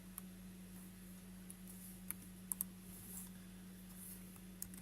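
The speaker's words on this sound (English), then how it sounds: "We are going to type A to see the show status" A few sparse, faint key clicks from a computer keyboard sound in a quiet room over a low steady hum.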